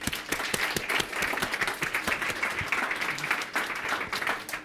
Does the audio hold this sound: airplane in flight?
no